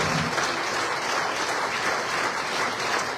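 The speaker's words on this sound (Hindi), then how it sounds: "एक वंडरफुल कपल के लिए बहुत जोरदार ताली बजा दी जाए उनके लिए।" An audience applauds a couple at a gathering, a dense, steady burst of clapping from many hands, loud and sustained throughout without talk.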